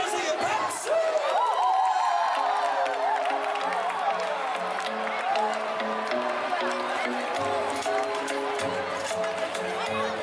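Baseball stadium crowd at an NC Dinos game cheering and clapping in a steady, dense roar, with an amplified announcer and music running over it throughout.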